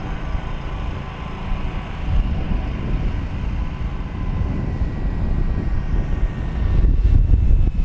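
An FMS Corsair 1700mm radio-controlled model plane comes in to land in a direct crosswind, its electric motor and propeller giving a steady low drone close by that swells slightly toward the end.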